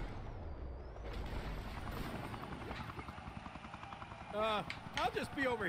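A helicopter in the wrestling video game WWE 2K Battlegrounds gives a steady rotor thump with whining engine tones and a game character's voice over it, getting louder toward the end.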